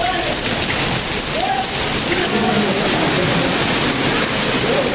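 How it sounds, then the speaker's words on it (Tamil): Moderate rain falls over the Kodaikanal hills in Dindigul district, a loud, dense, continuous patter of drops on surfaces filling the whole stretch without pause. "திண்டுக்கல் மாவட்டம் கொடைக்கானல் மலைப்பகுதியில் சுமார் அரை மணி நேரத்திற்கு மேலாக மிதமான மழை பெய்தது"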